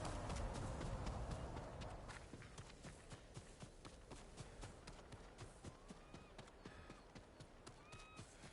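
Horse hooves clip-clop at a walking pace in Ghost of Tsushima, a quick, irregular run of close, quiet strikes that follows a louder rumbling start and carries on alone.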